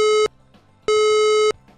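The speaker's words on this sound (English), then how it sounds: "The initial alarm will sound like this" Initial emergency alarm in a University of Newcastle building, Australia: two loud, steady electronic tones, each about half a second long, separated by a short silent gap.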